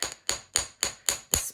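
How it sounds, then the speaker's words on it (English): Six sharp, evenly spaced metallic taps from a chasing hammer flattening and splaying the end of a wire for a wire-wrapped beaded bangle, close and crisp with no talking. "this is where the chasing hammer comes in handy, because you can get right up to that edge with that chasing hammer"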